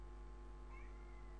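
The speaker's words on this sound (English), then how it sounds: "That is my cat." A pet cat indoors gives one short, faint meow midway through, over a steady low electrical hum.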